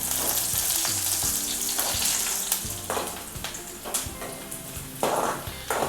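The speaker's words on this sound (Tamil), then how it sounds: "இப்போ வெங்காயம் வந்து நல்லா பொன்னிறமாக ஆகுற வரைக்கும் நம்ம இதை நல்லா வதக்கிடலாம்" Onions sauté in a pan for prawn fried rice, a loud, steady sizzle broken by repeated scrapes and knocks of a stirring utensil against the pan.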